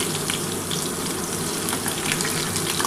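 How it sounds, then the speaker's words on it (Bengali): Potatoes frying in hot oil for aloo bhaja make a loud, steady, close hiss and crackle of sizzling that runs unbroken throughout, with no talking. "আমি এই আলুগুলো ভেজে তুলে নিই"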